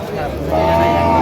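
A single dairy cow at a cattle market lets out a loud, low, drawn-out moo close by, filling the short moment.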